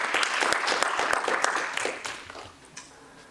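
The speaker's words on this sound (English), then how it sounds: "with a warm applause" Audience applause welcoming a professor to the stage at a fossil-free weekend event at a university of applied sciences, a dense roomful of clapping that thins and fades out toward the end.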